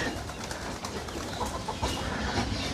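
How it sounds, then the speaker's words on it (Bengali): Pigeons of several breeds coo softly amid a busy, rustling outdoor background on a river-island village in Faridpur, Bangladesh, their low calls repeating in uneven bursts. "বিভিন্ন প্রজাতির কবুতর এখানে"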